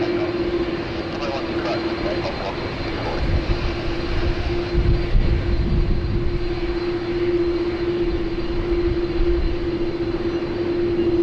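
Airplane at Sydney Airport, with a continuous loud jet engine roar and a steady tonal whine that swell slightly midway, while voices talk over it.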